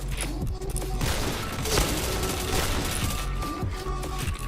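Rapid gunfire bursts in a PointBlank shooter match, dense overlapping shots and impacts filling the whole stretch at steady loudness, with a voice briefly in the mix.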